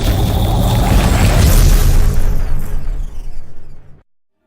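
A spacecraft docks in the space-colony game Space Haven, with a loud, sustained boom and rumbling whoosh that swells, holds for a few seconds, then fades and cuts off abruptly.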